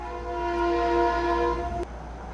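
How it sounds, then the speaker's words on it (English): A passing train sounds a long, loud sustained horn that holds for nearly two seconds and then cuts off, over a low rumbling background. "That's a train."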